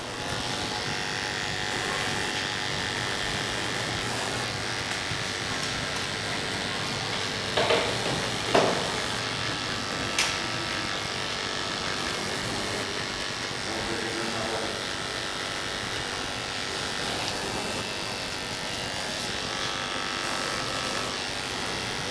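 Electric hair clippers fitted with a 50 detachable blade cutting hair during a barber's mid bald fade, giving a steady, close electric buzz throughout with a few short clicks and bumps.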